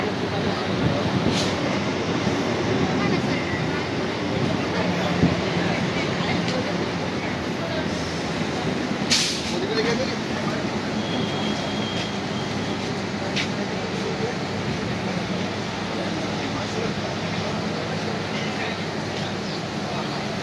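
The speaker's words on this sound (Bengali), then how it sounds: "আমাদের ট্রেন এখন ঢুকে গেল হালিশহর" A Sealdah–Chakdaha local train pulls into Halisahar station, with a steady rumble and rattle of the carriages continuing throughout, some brief clanks, and a voice talking faintly over it.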